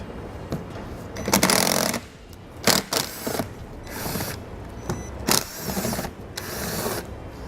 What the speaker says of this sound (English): These are going to be T25, so I'm going to use a T25 Torx bit to pull them out.